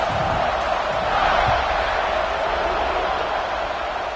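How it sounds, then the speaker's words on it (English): A football video game stadium crowd keeps up a steady, dense roar after a score, with no break across the short stretch. "this crowd is buzzing after that last score"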